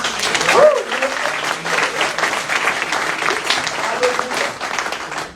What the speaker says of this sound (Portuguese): Você pode dar um aplauso a Jesus?